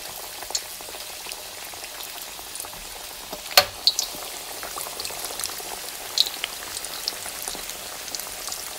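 Chicken pieces frying in hot ghee in a pan, a continuous fine crackling sizzle with scattered sharper pops, one louder spatter midway, steady and close with no talking.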